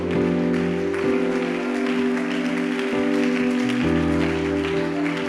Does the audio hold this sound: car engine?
no